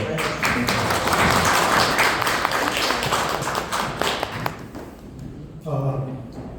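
Audience applause greeting a speaker at a lecture event: dense, loud clapping that fades after several seconds, giving way to a voice speaking near the end.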